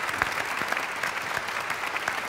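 An audience claps warmly, a dense and even wash of many hands close by that holds steady throughout without fading.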